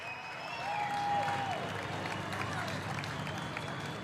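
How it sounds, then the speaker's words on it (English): Crowd applause and cheering at a New Zealand drift championship grand final at Baypark, a sustained wash of clapping with a commentator talking over it and a faint whine in the background. "clap your hands, stomp your feet, yell as loud as you can for Adam and Dave as they get out of the car"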